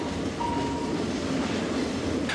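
A train on Switzerland's Rhaetian Railway heading to the resort of Arosa rumbles steadily along the track, with close, loud rolling wheel noise and a faint rhythmic clatter.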